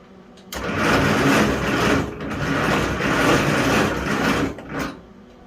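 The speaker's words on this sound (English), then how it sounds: "The bearings sound a little rough in there." An International 300 Utility tractor engine is cranked and turned over in a rough, rattling grind with rough-sounding bearings for several seconds, surging and dipping before cutting off.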